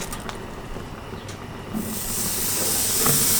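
Steak set on a hot barbecue grill, soft background noise at first, then a loud broad hiss swells up and keeps sizzling strongly to the end.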